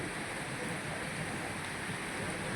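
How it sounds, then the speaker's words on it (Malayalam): Heavy summer rain pouring down near a workshop beside a road, a dense, even hiss of falling water that stays steady and fairly close throughout with no talk. "നല്ല മഴയാണ്"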